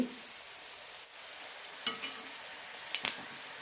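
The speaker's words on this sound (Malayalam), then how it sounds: "മീഡിയം ഫ്ലെയിമിലിട്ട് ഫ്രൈ ചെയ്തെടുത്താൽ മതി" Egg snack frying in oil on medium flame, a quiet continuous sizzle with a few faint stirring clicks and scrapes, no talk.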